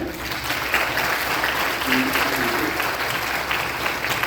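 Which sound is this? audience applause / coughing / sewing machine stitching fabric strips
audience applause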